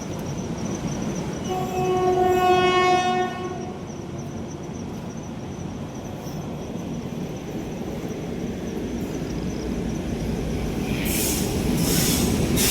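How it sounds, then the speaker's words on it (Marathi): The Konkan Kanya Express train rumbles past with a steady clatter of wheels, a brief tonal horn early on, and squealing near the end. "कुठेतरी गाडी क्रॉसिंग करते."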